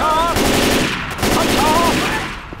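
Rapid automatic gunfire from Left 4 Dead 2, a loud, continuous burst of shots lasting a couple of seconds with a brief lull in the middle. There is no talk.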